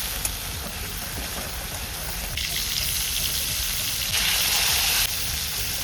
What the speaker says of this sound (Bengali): ওই ভাজার পর এক্সট্রা তেল ছিল, ওই তেলেই আমি মাছগুলো দিয়ে দিলাম।